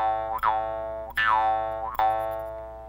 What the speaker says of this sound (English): These are jaw harps